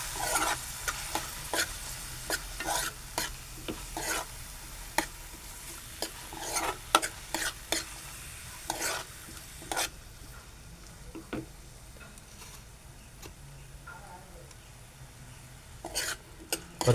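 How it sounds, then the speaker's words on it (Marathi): Onion is sautéed in a pan until reddish-brown for a Marathi mushroom dish, with a soft continuous sizzle and frequent sharp spatula scrapes and taps against the pan, busier at first and thinning out later; no talking. "परतून घेऊया कांदा तांबूस होईपर्यंत."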